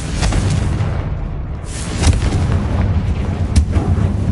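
Confringo fire spell blasts in the Hogwarts Legacy video game, a dense continuous rumble of booming explosions with sharper bursts around two and three and a half seconds, loud and close.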